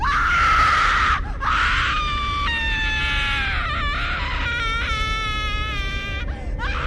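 A woman's piercing, blood-curdling scream rises and wavers over several seconds, loud and harmonic, with brief breaks as it shifts pitch.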